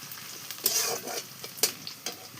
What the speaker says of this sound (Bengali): এই পেঁয়াজ ভেজে নিচ্ছি